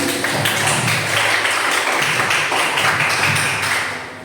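Applause at a webinar for the speaker: a crowd of hands clapping in a steady patter, fairly loud and continuous, tapering slightly toward the end.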